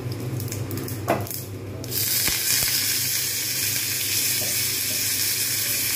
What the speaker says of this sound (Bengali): যতক্ষণ পর্যন্ত না ভালোভাবে ভাজা হয় ততক্ষণ পর্যন্ত আমাকে কিন্তু নেড়ে যেতে হবে।